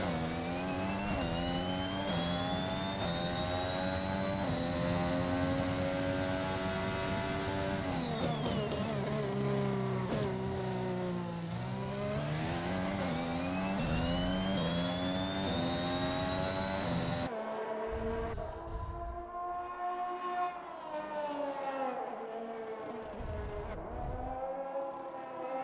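Red Bull Formula 1 car in a racing video game on a flying lap at the China round, its engine screaming loud and continuous, pitch climbing and dropping through repeated upshifts and braking.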